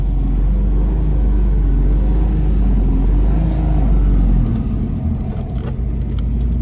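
Steady loud low rumble of a 2JZ-swapped Mustang engine with the transmission engaged in gear, a continuous drone with a slight drop in pitch near the end.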